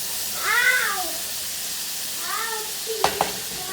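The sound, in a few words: onions sautéing with salt in a pan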